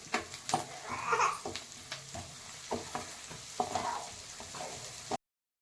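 Turmeric and spices being stirred as they fry in a pan for a brinjal and potato curry, with a steady sizzle broken by repeated scraping strokes of a spoon, close and moderately loud.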